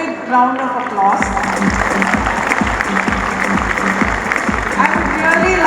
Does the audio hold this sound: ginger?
no